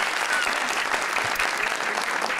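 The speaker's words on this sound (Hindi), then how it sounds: "ढेर सारी तालियां फॉर दिस अमेजिंग टैलेंट" Steady applause from a TV studio audience on a comedy talk show, dense and sustained for a couple of seconds with no talking over it.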